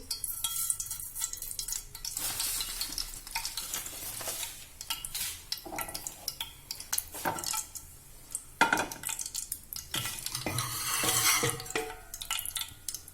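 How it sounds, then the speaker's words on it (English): Onion, dry chili, curry leaves and mustard seeds frying in oil for sambar, a steady sizzle broken by scrapes and clinks of a spoon stirring against the pan, with some louder crackling bursts. "We will fry this onion and dry chili and curry pata"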